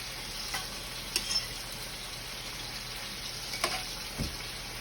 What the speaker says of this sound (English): So I got the olive oil in the pot already warming up